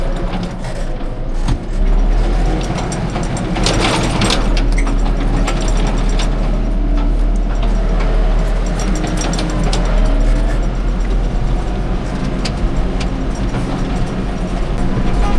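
A New Holland TR6 145s combine harvester cutting clover in a field, a loud, close, steady mechanical rumble and clatter of engine and gearing with continuous rattling throughout.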